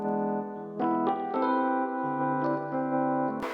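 Guitars and keyboards playing together in a mix processed through the Sonar stereo widener, sustained chords with a steady low bass note entering partway, instrumental only, full and close.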